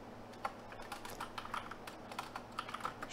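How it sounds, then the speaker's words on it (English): Quiet, close typing on a computer keyboard while entering a network command, irregular clicks of individual keystrokes with brief pauses, no voices. "we type in"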